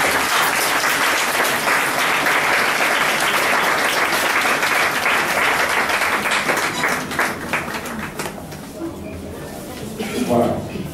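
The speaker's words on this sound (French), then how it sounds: "Applaudissez les encouragements." Loud, dense applause from a room full of people greeting managers at the end of a meeting, sustained then thinning out toward the end as a voice speaks over it.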